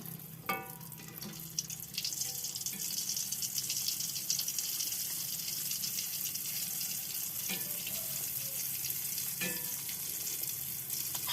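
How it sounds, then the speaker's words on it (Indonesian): Steady, loud sizzling of shrimp paste frying in hot oil, crackling continuously with a few sharp pops, no voices. "Sekarang saya mau menggoreng 1 butir terasi ABC."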